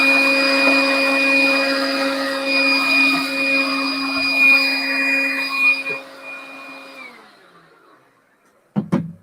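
A vacuum cleaner used to clean up a pumpkin bed job runs loud and steady with a strong whine, then winds down to silence, followed by a short clunk at the end.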